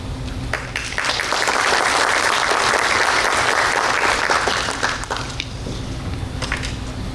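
An audience at a Morgan County Distinguished Young Woman program breaks into hearty applause to welcome the panel of judges, swelling quickly to a dense, close clapping roar that holds for several seconds before thinning out into scattered claps.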